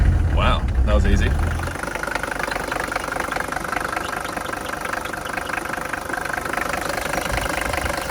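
A cold Mercedes W123 engine idles just after starting, with a low, even rumble and a steady knocking chatter. A brief voice is heard near the start over a louder opening burst.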